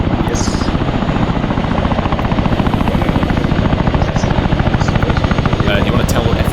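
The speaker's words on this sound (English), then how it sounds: "Is this the new Chinook, Peach?" A Chinook helicopter in the video game ArmA 3 gives a loud, close, rapid rotor thumping with a steady engine whine underneath, continuous throughout while voices talk over it.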